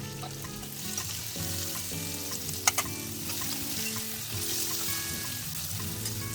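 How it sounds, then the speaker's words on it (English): Onions fry and sizzle steadily in a pan with a constant hiss, with a couple of brief utensil clinks partway through, no talking. "fry until onions turn to translucent."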